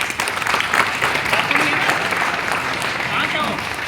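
Crowd applause for a participant at a live work-at-height rescue safety demonstration, continuous dense clapping throughout with voices mixed in.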